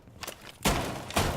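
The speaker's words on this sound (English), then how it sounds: "Some gunfire coming in west into Classic Hallway." Gunfire in the video game Rainbow Six Siege, with a few dull bursts of shots and heavy thuds sounding from some distance in a hallway.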